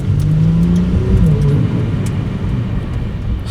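A Ferrari 296 Speciale engine kicks in as the car accelerates. Rising tonal revs swell over a rumbling road and wind noise, close and loud, then settle back.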